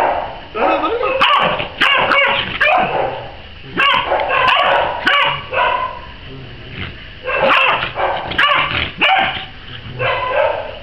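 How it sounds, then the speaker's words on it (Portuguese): A young dog yips and barks in short repeated bursts close by, while people talk over and between the barks. "esse latir tá tudo grosso"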